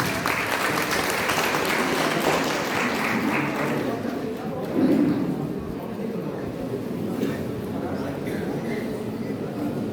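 An audience at a fire safety session breaks into steady, dense applause to welcome a speaker, loud and continuous at first then thinning slightly, with voices audible beneath the clapping.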